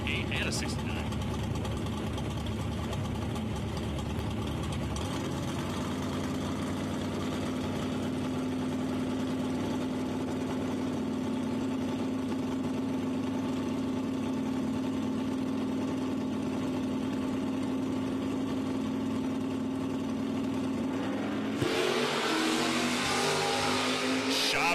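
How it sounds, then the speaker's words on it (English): At a drag strip, a 1968 and a 1969 Chevrolet Camaro run their drag race engines in a loud rumbling drone that holds steady and then surges near the end, with an announcer talking over it throughout. "going to bring up the 1968 Chevrolet Camaro of Andy Chavez on the right side, taking on Matt Ward in the 1969 Camaro"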